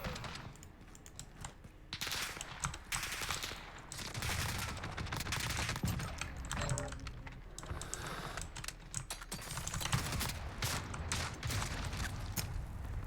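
Rapid shotgun blasts from Call of Duty: Modern Warfare gameplay, firing in repeated bursts under a steady clatter of computer keyboard typing.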